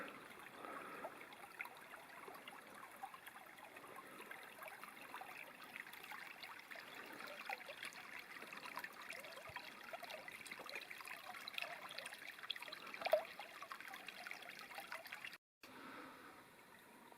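Faint, steady trickle of spring water seeping from a small woodland spot near a log cabin, a soft continuous flow with no talking.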